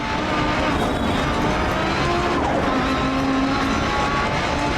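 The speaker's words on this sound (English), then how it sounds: "hard on the brakes" A rally car in the DiRT Rally video game brakes hard on a hillclimb stage, its engine droning loudly and steadily while the tyres scrub through the corner, with no voices over it.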